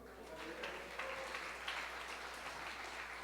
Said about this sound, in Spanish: brinda un aplauso al Señor